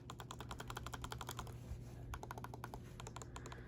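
The trackpad buttons on an HP Pavilion dv7-1245dx laptop are pressed in quick, rapid bursts of sharp clicks, with a short pause partway through. The clicking is quiet and close, and no one speaks.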